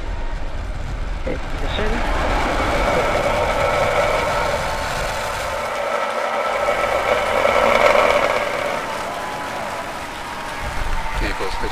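A SpaceX Falcon Heavy rocket launch gives off a loud, sustained broadband roar that swells and rumbles steadily for several seconds, with a voice speaking briefly over it.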